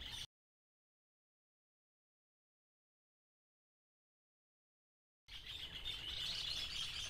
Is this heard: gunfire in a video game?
no